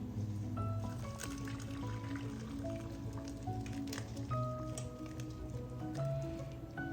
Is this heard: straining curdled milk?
yes